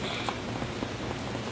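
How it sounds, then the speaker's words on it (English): Heavy rain pours steadily and close by, a dense hiss that fills the short stretch with no break, and almost no voice over it. "Guys, it's raining so hard."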